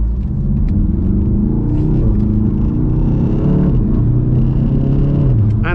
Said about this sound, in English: Okay, we're in drive and it is all clear,